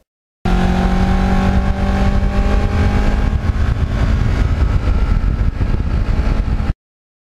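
A black and gold Kawasaki Ninja with 32,000 miles pulls away under steady acceleration. The engine note is loud, close and continuous, with a smooth rising whine and no voices over it.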